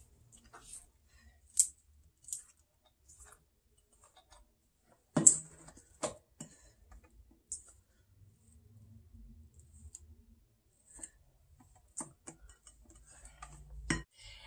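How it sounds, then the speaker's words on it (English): A spatula scrapes down the sides of a bowl of cheesecake batter, making faint, sporadic scrapes and light taps separated by near-silence, quiet and close. "I'm going to scrape down the sides."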